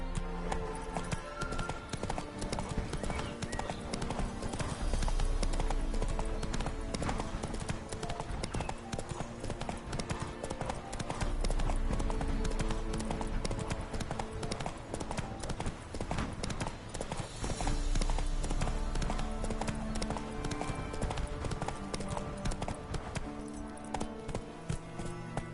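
Hooves of Roach, a horse in The Witcher 3, clip-clop in a steady rhythmic trot under continuous game music, loud and close throughout.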